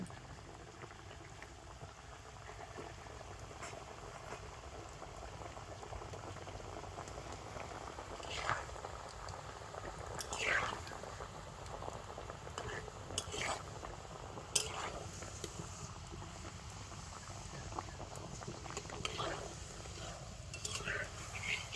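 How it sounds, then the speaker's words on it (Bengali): Palm fruit pitha balls deep-frying in oil give a steady bubbling hiss throughout, with scattered sharper crackles and pops standing out now and then. "আর দেখুন কত সুন্দর তেলের মধ্যে ভেসে উঠেছে দেখুন, একেবারে গোল বলের মতো হয়ে গিয়েছে।"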